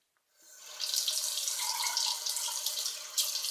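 A bathroom tap is switched on and runs steadily to rinse a washcloth during a facial oil cleanse, water hissing and splashing close by into the sink after a brief quiet start.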